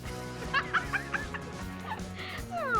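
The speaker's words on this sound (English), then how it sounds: "Gobble, gobble." Turkeys and other fowl gobble and cluck nearby in a burst of short warbling calls, with more calls trailing off over a steady background hum.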